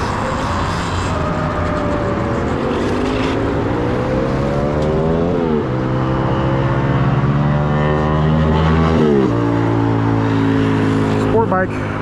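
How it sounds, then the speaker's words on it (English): A sport bike passes on a Los Angeles street at night, its engine note sweeping in rising and falling revs over steady traffic rumble, loud and close, then fading as it shifts through gears. "Sport bike."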